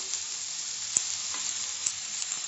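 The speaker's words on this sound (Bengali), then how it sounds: "ফ্রাই করতে হবে।" Boiled eggs fry in a pan over a medium flame for an Andhra-style masala egg fry, giving a constant close sizzle with a few faint stirring clicks.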